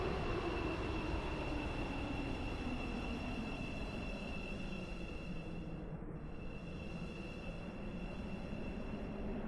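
A Class 717 train rides along in a video game, steady rolling rumble with a faint high-pitched whine, wheel noise continuing evenly for several seconds without any voices.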